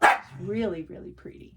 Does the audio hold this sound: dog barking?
yes